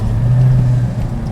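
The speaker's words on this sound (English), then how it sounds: "Just have a listen to the way that fabulous twin cam sounds." A Fiat 131 Abarth's twin cam engine holds a loud, steady drone as it is taken through the gears, close and clear with no voices.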